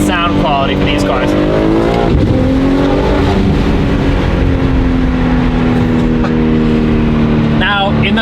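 A BMW G80 M3 fitted with a Valvetronic midpipe and 400-cell downpipes revs and accelerates loudly up close, its engine note climbing and then settling into a sustained drone, with someone talking excitedly over it.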